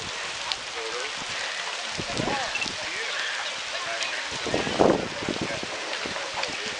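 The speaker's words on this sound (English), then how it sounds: "Oh, that's got hail in it." Steady rain pours down outdoors at a gathering, with hail mixed in, a dense broadband hiss with occasional louder knocks and spatters; people talk and exclaim over it.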